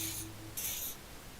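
Two short hissing spray bursts from an aerosol in the Disco Elysium video game, the second slightly longer, separated by a brief gap over a quiet background.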